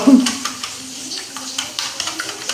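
Masala kothu roti being stirred in a pan gives light scraping and tapping clatters with a faint sizzle, a few irregular strokes close by, while a person talks over it.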